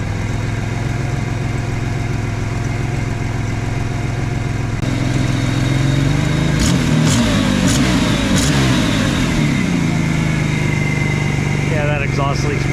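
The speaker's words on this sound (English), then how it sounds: "Yeah, that exhaust leak's pretty bad" An Isuzu pickup engine with a bad exhaust leak runs steadily close by, a rough continuous drone that rises in a brief rev near the middle.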